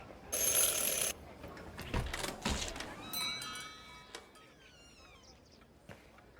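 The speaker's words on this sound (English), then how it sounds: "Ring 3 times for urgent matters." A desk bell in the video game Syberia: The World Before rings with bright metallic dings, then fades into a shimmering, decaying ring tone, with a brief voice near the end.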